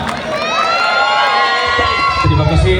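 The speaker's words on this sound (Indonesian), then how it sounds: "Tepuk tangannya untuk anggota Al-Abidin." Audience at a Maulid Nabi Muhammad celebration at a pesantren, applauding and cheering with a loud burst of high shouts and whoops over a broad crowd roar, with clapping building toward the end.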